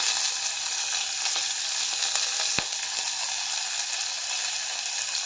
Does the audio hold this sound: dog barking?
no